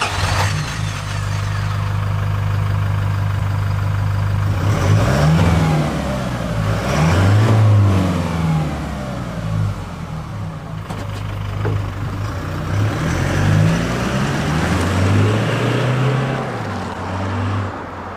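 A Toyota Hilux GUN125 fitted with a Ganador aftermarket muffler, held at mid engine speed: a deep, loud exhaust rumble that repeatedly rises and eases through several rev blips, recorded close with no speech.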